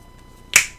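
A single crisp, close finger snap rings out sharply against near silence.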